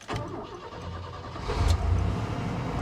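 A 1992 GMC truck engine cranks and starts with the clutch pressed, the low rumble swelling near the middle and settling into a steady running sound close by.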